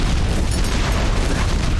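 A loud rocket explosion from the secondary fire mode in the shooter game Scathe, a heavy booming burst that fills the moment with deep rumble and no talking over it.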